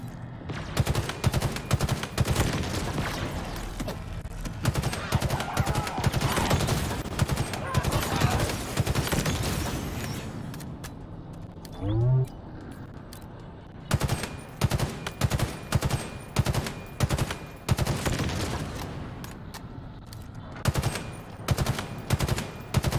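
Rapid automatic gunfire from Halo Infinite combat, dense bursts of sharp shots for the first ten seconds, a short lull with a rising electronic tone, then renewed choppy volleys of repeated shots.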